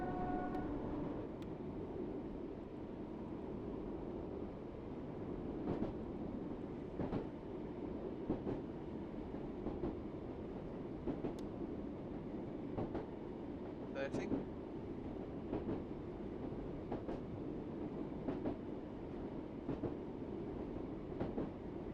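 A train in the Train Sim World 6 video game, a Great Western Express underground run, accelerates with a steady low rumble and rhythmic clickety-clack of wheels over rail joints, with a brief high tone partway through.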